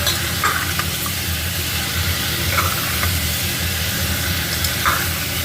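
A paste of ginger, garlic and onion with a little sugar fries steadily in a small amount of oil. It makes a constant loud sizzle with faint scraping as it is stirred, while cooking an elephant foot yam curry.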